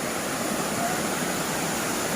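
A waterfall in the forest near Ban Muang Sum in Bualapha, Khammouane, rushes without a break, a broad, even roar of falling water that stays at close range.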